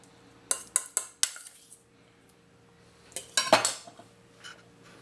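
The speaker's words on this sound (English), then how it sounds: "Now I'm gonna add the mashed avocado to our egg mixture." A metal utensil clinks and scrapes against a bowl while mashed avocado is added to an egg yolk mixture, in two short clusters of sharp taps separated by a quiet gap.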